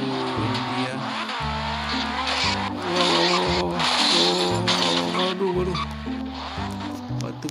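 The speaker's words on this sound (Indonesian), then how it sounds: "Kalian lihat, bunyinya sudah sangat kuat, tetapi sangat pelan mobilnya pergi" A struggling car engine, moving very slowly over stones on a bridge, revs loudly and unevenly, pitch rising and falling in strained bursts as if labouring, with no voices over it.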